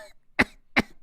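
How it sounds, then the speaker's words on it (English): Two short, sharp coughs from a man, evenly spaced and close, with near silence around them. "he coughs and then looks at the camera"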